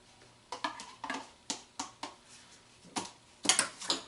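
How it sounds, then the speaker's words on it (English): A knife slices a banana on a cutting board for oatmeal, making a series of sharp, evenly spaced taps roughly every half second, close and crisp, with a few quick double clicks near the end. "Cut up the banana."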